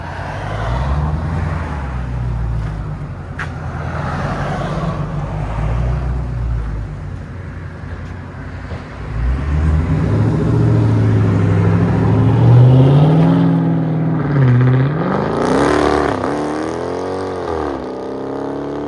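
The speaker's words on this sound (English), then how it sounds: "You guys ready to see the drive off?" Dodge Charger Scat Pack with a 6.4L HEMI V8 and AWE exhaust idles with a deep burble, then revs and roars as it drives off, the sound swelling loud before receding into the distance.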